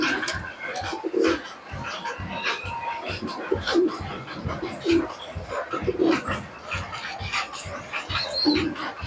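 A pair of deshi giribaj pigeons kept as a hobby coo in short repeated bursts close by, mixed with scattered knocks and rustling movement.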